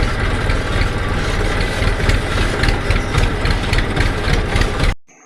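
A tractor engine runs steadily in a farm field during pesticide spraying, a loud, close, continuous rumbling drone that holds throughout and then cuts off abruptly at the very end.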